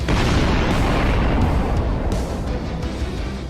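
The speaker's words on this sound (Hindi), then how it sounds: "वहां पर बहुत बड़ा धमाका होता है" A huge explosion in an animated action story roars as a sustained, loud, rumbling blast that fills the clip and fades only slightly toward the end.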